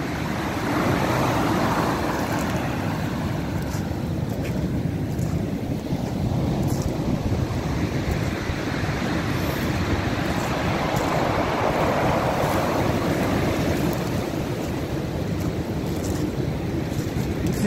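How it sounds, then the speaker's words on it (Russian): Stormy Black Sea surf at Arkhipo-Osipovka: a steady, loud roar of breaking waves with strong wind buffeting the microphone, continuous for the whole stretch with no voices. "Единственное, что реально можно показать, это вот волны, погоду."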